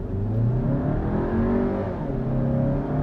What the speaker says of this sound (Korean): 지금 파란불 들어왔죠 시속 8에서 꾹 가자